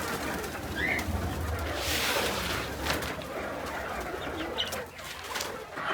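Pigeons cooing at an open farm, soft repeated coos mixed with other faint bird calls over steady outdoor background noise.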